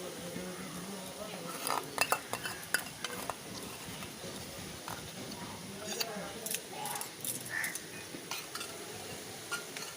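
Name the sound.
stirring mango pickle into eggplant in a pan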